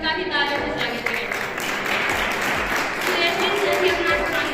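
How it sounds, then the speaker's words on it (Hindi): An audience at a school farewell party keeps clapping to welcome another guest, a continuous crowded patter of applause with talk over it. "उनका भी तालियों से स्वागत करें।"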